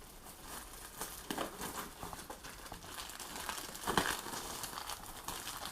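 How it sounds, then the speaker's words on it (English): Crinkly plastic packaging around a Rollz Motion Performance walker is pulled open close by, with irregular crackling and rustling bursts, a few louder crumples, and no voices. "Get this unwrapped."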